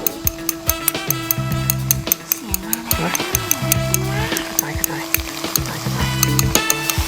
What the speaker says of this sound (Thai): พอเตาเริ่มอุ่นๆนะครับทุกคน เอากระเทียมเนี่ย โรยให้ทั่ว กระจายไปทั่ว